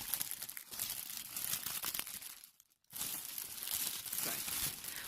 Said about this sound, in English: it comes with a quite big thing of cellophane. Sorry, rustling.